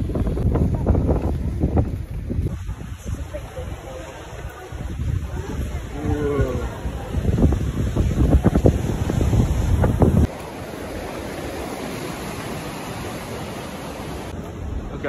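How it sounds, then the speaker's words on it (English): Strong coastal wind buffets the microphone beside sea caves on Fuerteventura's shore, a loud, rough roar with waves and surf underneath, while someone talks partway through before the gusts settle into steadier noise. "I don't even know if you can hear me over the wind."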